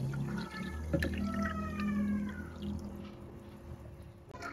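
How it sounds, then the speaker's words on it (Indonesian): Water streams into a pudding mixture of gelatin powder, a faint steady pour with some gurgling that tapers off near the end. "Lalu tambahkan 1800 ml air."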